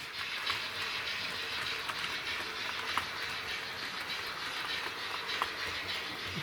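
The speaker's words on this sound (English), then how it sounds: "As the Thompson comes backwards for yet another circumnavigation of my outer track" An OO gauge model Thompson locomotive running backwards around an outer loop of track, a steady, fairly quiet mechanical whir and rail hiss that goes on throughout with faint clicks, and no voices.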